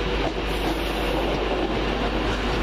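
A London Midland passenger train running from Shrewsbury to Birmingham New Street passes on the rails near Wolverhampton, a loud, steady rumble of wheels and carriages filling the whole moment with no voices.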